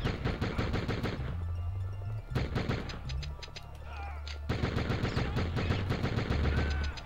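Video game gunfire: dense rapid automatic bursts with short pauses and a booming low rumble, sounding loud and close throughout.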